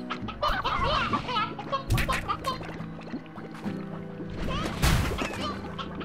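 Chickens cluck in the video game Slime Rancher, with sharp bursts and thwacks mixed among game sounds over a few seconds.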